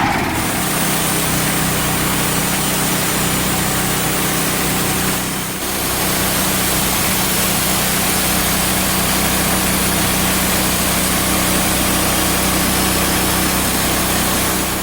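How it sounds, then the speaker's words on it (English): A loud small engine runs steadily at high revs, a droning portable sawmill motor working through a log with a brief dip midway. "That exhaust on that mill's blowing straight at me."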